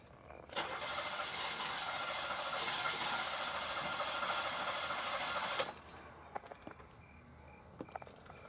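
A car engine cranks and struggles to start, a sustained harsh grinding roar of about five seconds that cuts off abruptly, followed by quiet with a few faint clicks.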